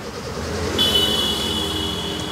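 A car engine runs steadily at idle during a driving lesson, a moderate, even hum with a faint high whine entering partway through and no talk over it.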